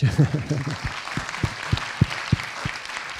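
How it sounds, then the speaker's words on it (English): Audience applause in a cinema Q&A for the producer of Albert Dupontel's film, a spread of claps under someone speaking at first, then thinning to a few scattered loud claps. "She's there, so you can applaud her"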